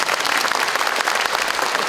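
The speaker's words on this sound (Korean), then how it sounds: "그럼 박수 한번 쳐주세요." Audience applause at a Korean carbon-neutrality campaign rally, a dense, steady burst of many hands clapping at full volume, sustained evenly throughout without a break.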